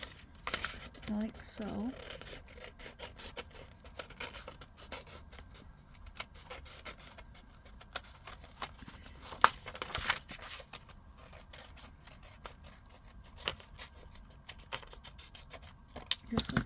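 Scissors snip and rasp through paper while an envelope template is cut out, a quiet, uneven series of close scraping cuts and paper rustles, with a person speaking softly at times.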